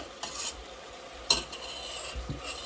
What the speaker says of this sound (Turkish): Şimdi böyle kıymamı güzelce ezerek kavuruyorum.